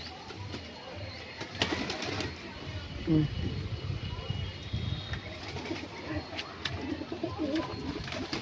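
Pet fancy pigeons coo in a cold-weather loft, soft low calls repeating over a steady background murmur, with a few brief louder bursts and a faint hint of wings.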